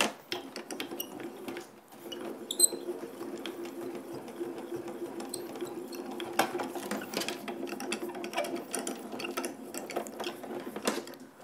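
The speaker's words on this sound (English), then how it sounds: "So I'm going to pop it through the machine like this." A die-cutting machine cranks dies and card through its rollers, a steady close mechanical grinding with ratcheting clicks and small clacks, moderately quiet and continuous throughout.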